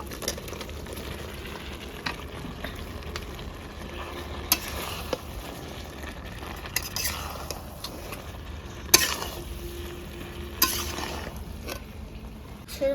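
Previously fried ingredients go into a sizzling pan of curry, giving a low, steady sizzle with scattered sharp clinks and scrapes of a utensil against the pan and no talk.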